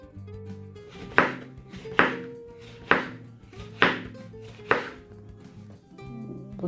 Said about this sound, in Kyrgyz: помидорду чоң-чоң бөлүктөргө бөлүндүрүп турап коебуз